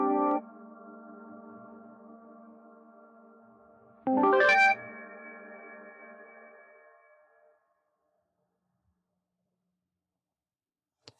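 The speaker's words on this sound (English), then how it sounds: "Use your alpha wheel to change the amount of reverb decay time and play to hear the change." A sustained Kurzweil K2000 synth chord rings out and fades, then a brighter swelling chord with a long reverberant tail that decays slowly into silence as the reverb decay time changes.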